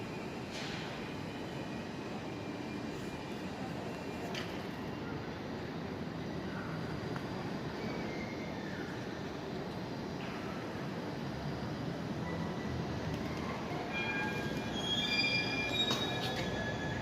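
Trains rolling over the tracks below Den Haag Centraal station in the Netherlands, a steady rumbling roar with high wheel squeals rising near the end, continuous and fairly close with no talking.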